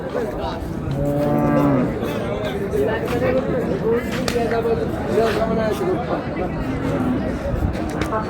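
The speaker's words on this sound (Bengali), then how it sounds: "গাভী বাছুর" Cows and calves bellowing at a cattle market in Dinajpur, with a long nearby moo early on and more lowing later, all under steady crowd chatter and people talking.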